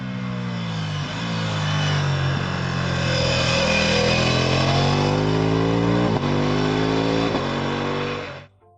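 A BMW R1300GS Adventure boxer twin motorcycle engine runs steadily at low revs, a deep throbbing idle with slight rises in pitch, close and loud, then cutting off at the end.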